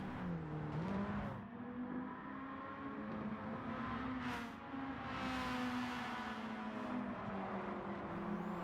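Amemiya Mazda RX7 in Gran Turismo 7 on the Nordschleife, held flat out along a long straight: a steady high-revving engine drone that rises in pitch, with a short dip at an upshift, loud and continuous.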